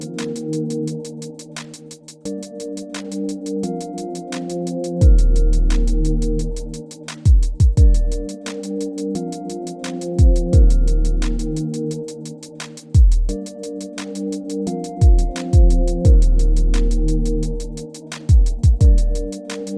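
Bell-like synth top line playing a repeating melody over sustained chords, with deep bass hits and sharp percussive clicks in a hip-hop style beat, all instrumental and without voices.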